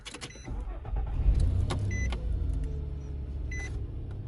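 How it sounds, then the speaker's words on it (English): A steady low whooshing heater blower fan hum inside a 2005 Nissan Pathfinder, running on setting 1, with a few clicks and brief electronic beeps over the top. "right away you can hear the blower going"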